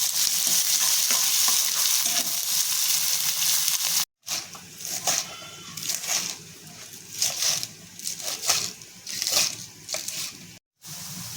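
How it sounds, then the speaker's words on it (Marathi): Onion, chili and garlic sautéing in hot oil in a kadhai, a steady close sizzle at first, then broken by repeated stirring scrapes and clacks of a spoon against the pan. "मी कढाईमध्ये तेल गरम करून त्याच्यामध्ये कांदा मिरची आणि लसूण टाकून आपल्याला ते परतून घ्यायचं आहे"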